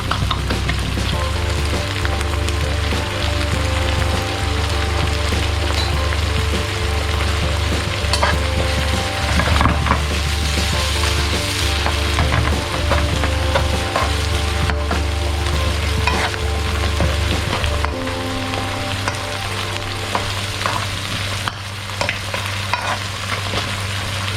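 Salted shrimp fries loudly in oil for chili paste, a dense, steady, close sizzle with stirring scrapes that runs throughout and thins slightly near the end, with nobody speaking.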